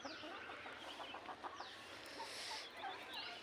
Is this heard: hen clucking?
yes